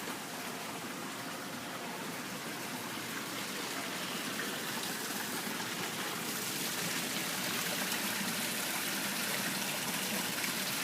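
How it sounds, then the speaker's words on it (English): Water splashing continuously from a water feature on the deck of a row house, a steady rushing, trickling flow heard close and alone for the whole stretch without any talk. "Very nice water feature."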